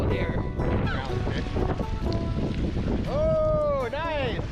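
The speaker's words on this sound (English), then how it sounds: "the wind is extremely cold here" Cold wind gusts across the microphone on the open waterfront at Whittier, Alaska, a steady rushing buffet that lasts throughout, with brief rising tonal calls near the end.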